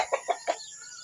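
Backyard chickens being fed give a quick run of four close, short clucks in about half a second, then fall quiet, with no talking.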